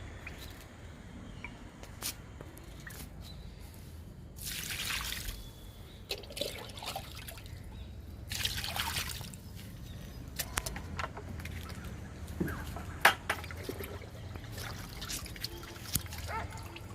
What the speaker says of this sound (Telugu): ఈ 2 మునగ మొక్కలకి ఇచ్చేద్దాము లిక్విడ్.